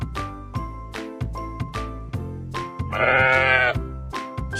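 A single drawn-out sheep bleat rises near the middle, loud and close, set against a lively jingling tune that plays the whole time.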